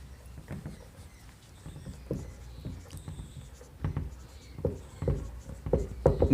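A pen writing notes by hand on paper during a physics class on units and dimensions, with close scratchy strokes in short bursts that grow busier and louder toward the end, with no voices.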